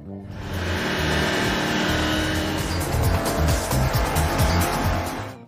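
Racing video game car sounds: a loud engine roars and revs steadily with tire squeal and skidding, accelerating and passing throughout, with no pauses.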